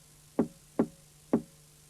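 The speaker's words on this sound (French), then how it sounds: "Il frappa à nouveau." Three evenly spaced knocks land on a wooden door, close and clear against near silence.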